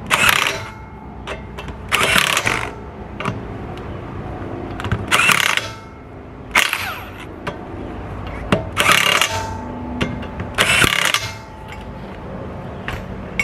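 Lug nuts being tightened in a star pattern on the rear wheel of a 2011-2013 Buick Regal during a brake pad job: six bursts of rasping, ratcheting metal, roughly two seconds apart, close and fairly loud, with no talking.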